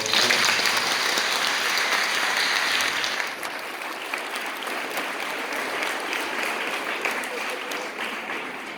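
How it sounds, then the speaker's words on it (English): Loud, dense audience applause fills the whole stretch, easing slightly after a few seconds but continuing as sustained clapping from a large crowd. "So give yourselves a big round of applause"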